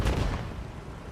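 A single deep artillery boom in the World War II game Hell Let Loose rumbles heavily, then fades over about a second.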